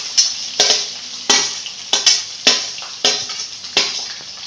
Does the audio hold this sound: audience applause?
no